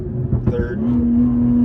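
A BMW G30 540i with a 530 hp engine pulls hard through a left-hand bend on a mountain road, its engine note rising into a strong, steady drone after a brief burst of mechanical noise, loud and close from inside the car.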